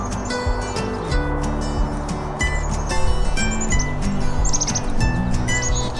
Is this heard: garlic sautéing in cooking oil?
no